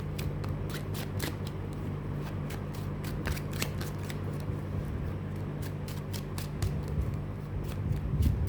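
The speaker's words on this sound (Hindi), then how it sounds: "आई नो कि ऐसे शफल नहीं करना चाहिए, कसिनो कार्ड्स नहीं है ये" A deck of tarot cards is shuffled continuously by hand, giving close, crisp riffling and flicking snaps in a steady run with no talk.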